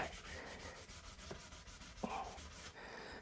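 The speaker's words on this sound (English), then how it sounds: "Stripping away the old layers of paint, the old varnish, and some of the damaged dry rot." Abrasive sanding strips old paint, varnish and dry-rotted wood from a weathered wooden window, giving a steady close scraping rub with a couple of sharper knocks and no talk.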